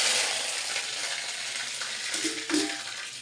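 Cardamom, cumin and curry leaves fry in hot oil with a dense, close crackling hiss that holds steady, then a brief sharper spatter near the end.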